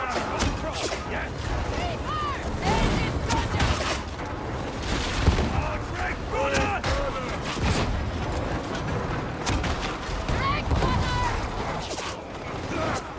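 Gunfire in a Warhammer 40,000 game, a continuous chaotic fusillade of shots and impacts mixed with battle effects, while players talk over it.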